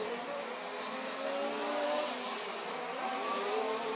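An RC racing car engine screaming around an offroad track during qualifying, a steady high-pitched whine from a distance with slight rises and falls as it circles, no voices.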